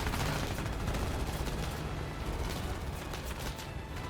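Dense, continuous gunfire from aircraft during an air combat pass, a loud sustained roar of shots filling the whole stretch with no pauses.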